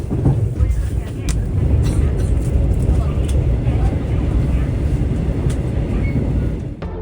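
A Mugunghwa passenger train runs between Samnangjin and Mulgeum stations, giving a steady low rumble of wheels and carriage noise that holds loud and constant throughout, with a voice talking over it.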